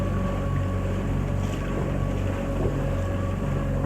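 A boat ride to Sambranikodi island in Kerala: a loud, continuous motor drone with wind rushing over the microphone, steady and close, with no talk.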